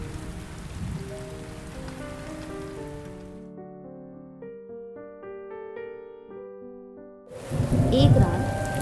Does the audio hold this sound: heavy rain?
yes